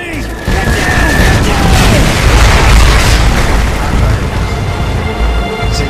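A loud, close artillery strike in Call of Duty: Modern Warfare 2 hits with heavy booms and bursts, then a sustained rumbling barrage that rolls on for several seconds.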